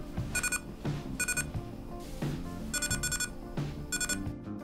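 Short bursts of high electronic beeps from a Tekhnomir "Tuchka" DIY soldering kit repeat in clusters over a steady low hum, clear and fairly close, with no talking.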